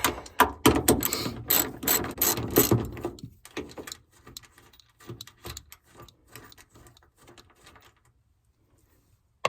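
A ratchet wrench backing out 10 mm bolts from the door of a 2003 Honda Element, with rapid loud clicking close by that slows into sparse, fainter clicks and then stops.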